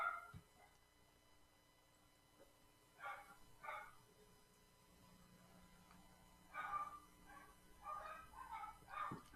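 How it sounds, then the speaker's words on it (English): Dogs barking at a distance in short scattered bursts of yips and woofs, fairly faint over a low background hum, with quiet gaps between the volleys. "Man, I don't know what the hell's going on with the dogs."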